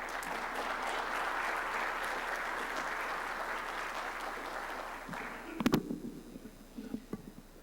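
An audience at a space technology event applauds a speaker with sustained clapping that fades after about five seconds, followed by a few thumps and faint murmurs.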